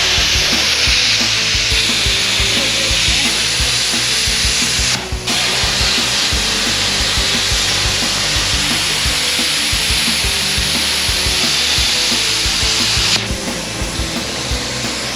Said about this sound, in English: Let me cut this side first